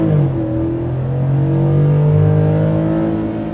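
A 2025 Ford F-150 Tremor with its 5.0 engine accelerates hard in sport mode, the engine note rising steadily and loud from inside the truck, with no talking.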